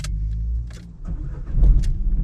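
A car engine starting up at a fuel station, with a short cranking burst followed by a low, steady idle rumble close by. Faint clicks and shuffling sit on top of the idle.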